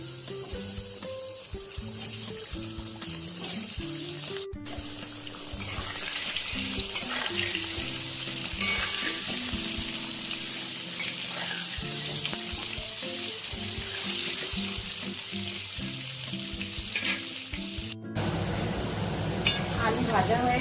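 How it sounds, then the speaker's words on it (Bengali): Potatoes sprinkled with turmeric and salt fry in hot oil for a mutton curry, giving a steady, moderate sizzling hiss that runs throughout under louder background music. "আমি আলুগুলো ভেজে নেব।"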